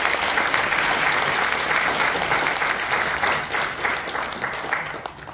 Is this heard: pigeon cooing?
no